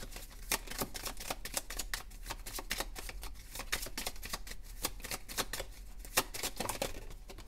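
Tarot cards handled and shuffled close up, a quick run of crisp flicks and riffles that patter steadily throughout with no voices.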